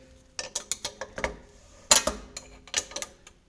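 A spanner turns the collar on a BC ER coilover during a car build, making a quick series of close, sharp metallic clicks and ratcheting taps in short bursts.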